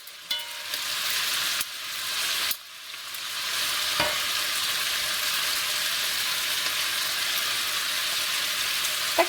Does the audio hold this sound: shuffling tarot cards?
no